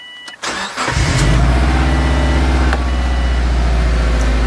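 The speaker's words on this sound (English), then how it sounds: "I'm just gonna start it up, see how it runs" A Subaru car with a leaking exhaust starts: a couple of sharp clicks and a brief crank, then the engine catches and settles into a loud, steady idle close by.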